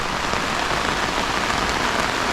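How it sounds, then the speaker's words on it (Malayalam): Heavy rain pours down steadily in a forest, a dense, loud, unbroken hiss of drops striking surfaces close by, with no voices. "ഭയങ്കര മഴ കേട്ടോ"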